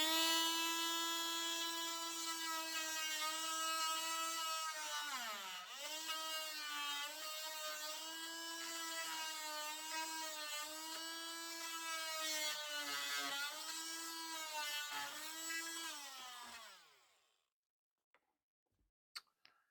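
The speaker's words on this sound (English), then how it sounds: "So I started doing some exploratory cutting with my oscillating tool." An oscillating multi-tool cuts into the wood of a boat transom frame, a bright, buzzing whine that wavers in pitch as it bites and runs continuously for about seventeen seconds, then stops, leaving a few faint knocks.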